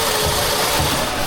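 Toyota GR Supra engine drifting: a steady, loud, gritty engine drone with rough mid-range vibration, held at constant throttle over a short stretch.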